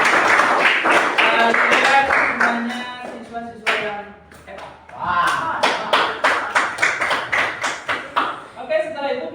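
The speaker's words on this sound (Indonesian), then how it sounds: "Oke, tepuk tangan untuk kita semua." Students in a classroom clap in a burst of scattered applause under a teacher's speech, followed by a later stretch of quicker, more rhythmic clapping.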